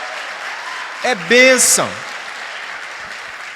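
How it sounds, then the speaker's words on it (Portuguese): A church congregation claps in a steady, fairly soft patter that runs throughout, while a voice speaks briefly over it near the middle. "aplauda o nome do Senhor"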